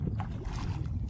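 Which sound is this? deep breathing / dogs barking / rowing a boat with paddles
rowing a boat with paddles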